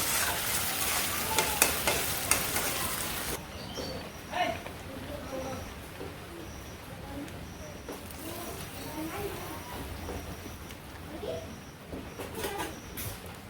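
Khichuri fries and sizzles in a wok while a spoon stirs and scrapes through it, the sizzle loudest at first and then softer, with birds cooing faintly in the background.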